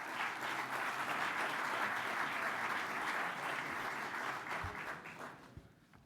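An audience at a ceremony marking twenty years of venture capital activity claps steadily, then the applause thins and fades out near the end.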